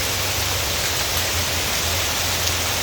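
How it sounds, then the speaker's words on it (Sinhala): Heavy rain pours down on a rainy day, a steady, dense hiss that stays even and unbroken throughout, with no voices. "අපිට අද හොඳටම වහිනවා."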